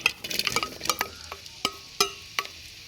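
Onions sautéing in hot oil in a pan, a soft steady sizzle broken by a series of sharp metallic spoon clinks and scrapes against the pan, close and fairly clear, with no talking.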